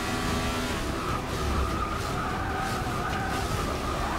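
A 1960s Grand Prix race car in Forza Motorsport 6 roars at high revs with a gritty engine note and scrubbing tire skid, loud and continuous for the whole stretch.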